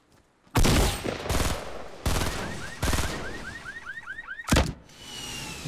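Gunfire in the video game Fortnite: several loud, sharp shot bursts fire at irregular intervals, interspersed with whistling, chirping effects and background game noise, with no talking.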